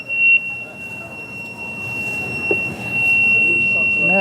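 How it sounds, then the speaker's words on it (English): A kitchen oven timer alarm sounds as a loud, steady high-pitched tone that runs through the whole clip over a busy, noisy background. "The oven, the alarm in the oven is super loud."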